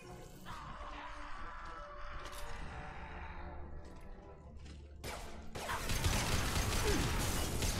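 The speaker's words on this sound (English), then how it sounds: "now we close the other shutter" A metal shutter grinds closed in Mass Effect 2 with a mechanical ratcheting creak, followed by a heavier clanking crash and a louder mechanical rumble near the end.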